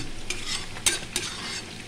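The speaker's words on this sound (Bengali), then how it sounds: "এইদিকে আমার ভাজা হচ্ছে সিম" Flat beans fry in a pan for pickle, giving a faint steady sizzle with a couple of short sharp stirring scrapes near the middle and no voices.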